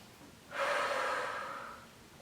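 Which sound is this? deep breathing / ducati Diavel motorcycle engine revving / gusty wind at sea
deep breathing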